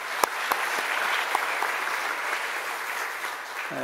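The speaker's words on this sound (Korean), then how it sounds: "마지막으로 감사의 박수 같이 올려드릴까요?" A church congregation at a Korean revival meeting in Singapore claps in thanks, a steady moderate applause with a few sharp individual claps standing out, fading toward the end.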